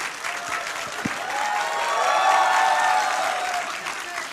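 A studio audience at a televised Hindi political debate applauds, dense clapping that swells toward the middle and holds steady before thinning slightly.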